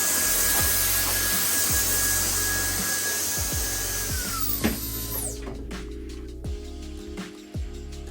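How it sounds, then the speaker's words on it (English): A Gamma XL hairdryer blows loose hair clippings away during a bald fade haircut: a loud, steady rushing whoosh with a faint whine that winds down and cuts off midway, followed by scattered light clicks and handling noises. "I will get the hairdryer and you can hear the power. It's the Gamma XL, just to get rid of all the loose"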